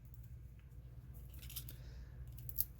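Scissors trimming paper while making a shaker card: a few faint, quick snips and crisp cuts over a low steady background hum, close by and quiet.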